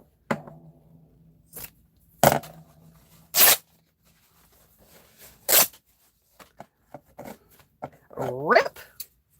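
Fabric ripped by hand at a craft table, several short sharp tearing bursts spaced a few seconds apart, with a voice speaking in between.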